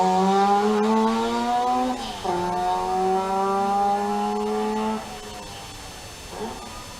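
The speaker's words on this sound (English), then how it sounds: "Here comes the car of Bob Haggerty." A race car at a hillclimb sprint event, prepared by Morgan Park, accelerates past with a buzzy, two-stroke-like engine note. A loud, steady rising pitch holds through one gear change, then a second shift drops it as the car fades.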